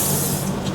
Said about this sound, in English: I just spray on my face.